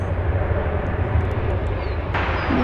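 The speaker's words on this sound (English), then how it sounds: "momentarily entering the picture will be American Flight 1261 arriving from Kansas City, an Airbus A321" An American Airlines Airbus A321 arriving at DFW airport from Kansas City gives a steady, loud jet engine roar with a continuous low rumble throughout, no voices present.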